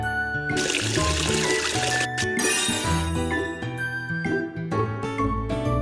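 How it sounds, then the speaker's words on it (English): Water pours again to rinse faces in a children's cartoon washing game: a loud trickling gush for about a second and a half, then light tinkling accents over upbeat music. "Wash their faces again with water."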